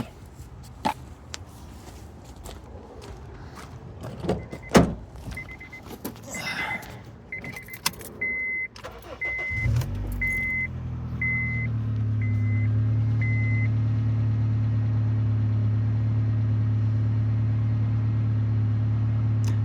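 A 2007–2008 Honda Fit engine cranks and catches after an ignition coil replacement, then settles into a steady, loud idle after a stretch of clattering and clicking work noises.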